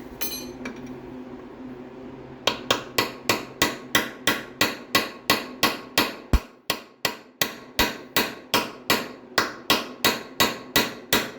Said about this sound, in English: I need to get a bit of a hammer